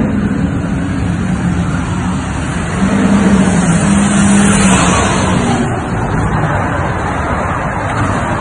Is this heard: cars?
yes